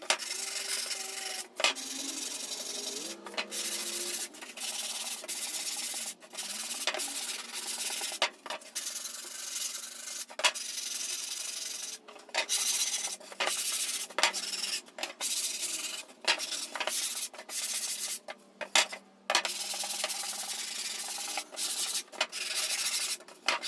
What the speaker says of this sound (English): We're going to sand all our edges and make them nice and rounded